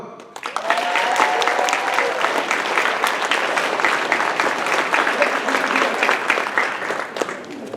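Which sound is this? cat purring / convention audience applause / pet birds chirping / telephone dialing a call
convention audience applause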